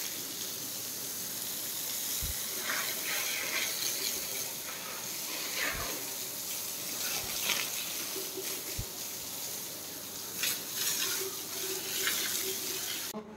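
Water sloshes and runs as a cattle shed floor is washed down, flushing spilled straw and dung away; a steady broadband wash with a few sharp knocks, no speech.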